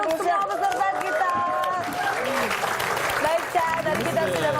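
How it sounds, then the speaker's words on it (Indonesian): A studio audience on a comedy quiz show applauds the contestants, with a presenter's voice and laughter mixed in over continuous clapping. "tepuk tangan untuk semua peserta kita"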